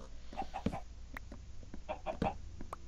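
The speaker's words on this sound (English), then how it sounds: "No, that's a chicken." Soft clucking of a chicken in the Minecraft video game, several short repeated clucks spread across the clip, fairly quiet and alone.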